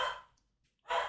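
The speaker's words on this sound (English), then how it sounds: "Sorry about my dogs barking." Two loud, close dog barks, the first at the onset and the second near the end, with a short quiet gap between them and no voices.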